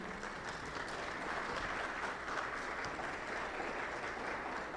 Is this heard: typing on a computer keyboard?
no